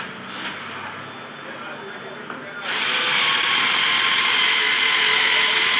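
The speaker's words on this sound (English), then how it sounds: "so I can drill the second hole." A power drill bores a mounting hole for a solar panel that powers a dual-lens 4G PTZ security camera, starting abruptly partway through after a quiet lead-in and then whining loud and steady close by until the end.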